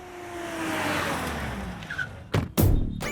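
A car skids and squeals briefly near the end after a low rolling engine rumble, with two sharp bursts close together, in a comedic South Indian film scene with no speech.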